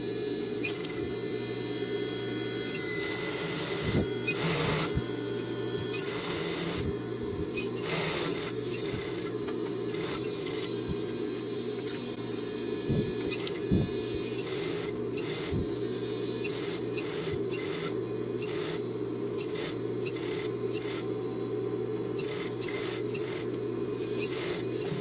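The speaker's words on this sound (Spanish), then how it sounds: "Yo le voy a pasar la over para que no se deshilache" An overlock serger runs steadily while finishing a seam on a rain jacket, a continuous mechanical whir with rapid clicking and brief louder bursts, close and sustained throughout.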